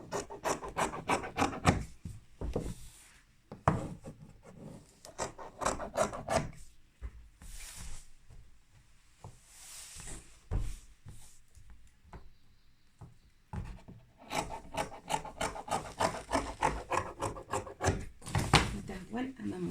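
Scissors cutting dress fabric for a ruffled gown, a steady run of rasping, sliding snips in bursts with brief pauses, close and moderately loud.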